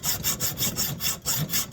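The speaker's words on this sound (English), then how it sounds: "I'm just going to cut it off with a hacksaw." A hacksaw cuts through a 3D-printed stainless steel part in quick, even back-and-forth strokes, harsh and close, with no talk.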